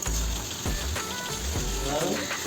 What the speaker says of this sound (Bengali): পেঁয়াজগুলোকে ভেজে ফেলছিলাম